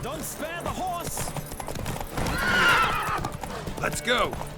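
Horses neigh and whinny loudly during a race in The Witcher 3, with rapid clip-clop hoofbeats of galloping beneath and game characters' voices mixed in.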